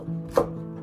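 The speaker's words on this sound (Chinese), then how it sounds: "然后把青椒给它切成小段" One crisp knife chop through a green pepper on a cutting board while it is cut into small pieces, close and clear over a faint steady hum.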